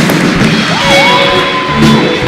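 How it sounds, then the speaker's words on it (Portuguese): A live talk-event audience cheers and whoops with a roaring crowd swell that stays loud and steady through the short stretch, with shouted voices rising over the noise. "Salva de palmas para Thales Gomes!"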